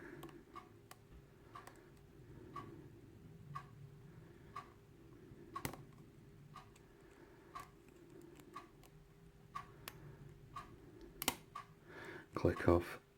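Faint, sparse clicks of pin tumblers setting while a no-name euro cylinder lock is single-pin picked, spaced irregularly and quiet under low hum, with a louder cluster of clicks near the end.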